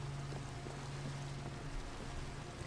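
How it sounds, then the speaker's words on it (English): Rain in Minecraft, a steady, soft, even patter with a low hum underneath, continuous and fairly faint, with no talking. "See, there's rain here. We're getting wet."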